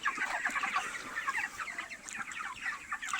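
Broiler chickens around two kilograms in weight cluck and chirp continuously in a crowded poultry farm house, a dense, steady chorus of many birds with no talking.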